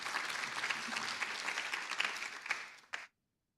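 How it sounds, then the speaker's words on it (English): Warm audience applause for a speaker at a youth organisation launch event, a dense steady wash of many hands clapping that fades and stops abruptly near the end. "let's lift the energy in the room and possibly give her a big warm round of applause."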